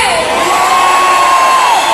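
A concert crowd cheers and shouts loudly and without a break. Whoops and high yells rise over a dense roar of many voices.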